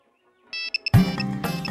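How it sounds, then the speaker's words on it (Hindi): A mobile phone ringtone plays a few short electronic chirps, then a louder, fuller melody cuts in and continues, close and clear with no talking. "Prakash please phone receive"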